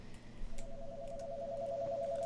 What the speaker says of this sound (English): It appears we have a ringing phone.